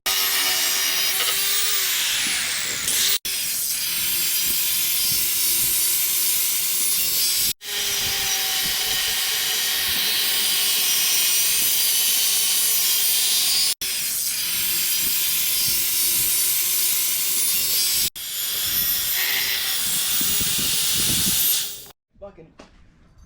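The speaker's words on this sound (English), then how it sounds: "we went ahead and we got all of our 25-inch strut channel rails cut" An angle grinder slices through metal strut channel rails during an RV toy-hauler solar install, a steady loud hissing whine held for several seconds at a time with brief pauses between cuts, winding down at the end.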